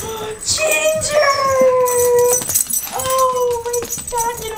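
A dog whimpers and cries in drawn-out, rising and falling whines, loud and close, with excited voices talking over it.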